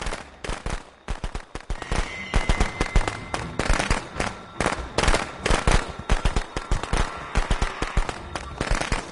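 Rapid crackling bursts of fireworks dropped by survivors in the Friday the 13th video game, sharp pops firing in dense irregular clusters for several seconds, loud and close.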